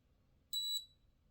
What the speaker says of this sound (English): it will continue to beep, just let you know that you've got good connectivity